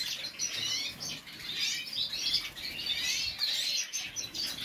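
Many birds chirp and twitter continuously in an indoor bird room that houses large-breed males and females, forming a dense, steady chorus of overlapping high calls at moderate loudness.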